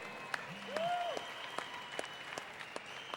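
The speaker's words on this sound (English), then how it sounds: "Round of applause for Kenny with Mile High Pipe and Tobacco." Audience applause for a pipe and tobacco shop sponsor at a wounded heroes ceremony, a steady patter of clapping with sharp individual claps, moderately distant, while a voice briefly calls out over it.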